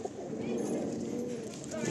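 Breeding pigeons sitting in a fancier's loft coo low and steadily, a soft continuous burble fairly close, with a faint rustle in the background.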